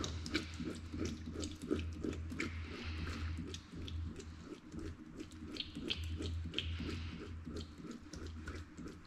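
Water runs through a sausage casing as a butcher rinses it for poultry sausage, faint sloshing and dripping in soft irregular bursts close by.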